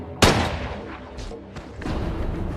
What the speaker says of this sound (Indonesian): Di dalam gudang, Jim menembak mati lagi anak buah Bedul